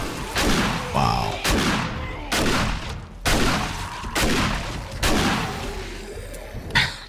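A shotgun fires repeatedly during a horde night in the video game 7 Days to Die, with about seven loud, booming blasts spaced roughly a second apart, each followed by a short decaying rumble.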